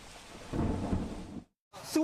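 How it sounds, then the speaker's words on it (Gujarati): Heavy monsoon rain in Surat, a dense roar of downpour with a low rumble of thunder swelling through the middle, then a sudden cut to silence before rain noise and a brief voice return. "સુરતમાં વહેલી સવારથી ધોધમાર વરસાદ વરસી રહ્યો છે"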